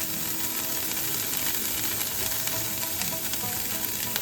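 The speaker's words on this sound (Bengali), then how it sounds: "গ্রেট করা খোয়া ক্ষীর কড়াইতে দিয়ে দিচ্ছি" Grated khoa kheer fries in a non-nonstick kadai with a steady, close sizzle, crackling hiss and faint scraping as it is stirred, alone throughout.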